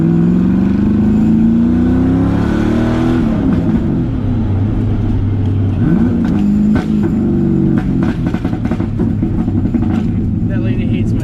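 Loud engine of an LS-swapped Nissan 350Z drift car heard from inside, droning and shifting pitch as it accelerates and slows, with people talking over the steady roar.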